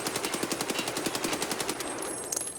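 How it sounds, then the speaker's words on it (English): A rapid, evenly paced stream of full-auto rifle shots in the shooter game Escape from Tarkov, sounding as one sustained burst of about two seconds before it cuts off, with no talk over it. "let's check out the full auto"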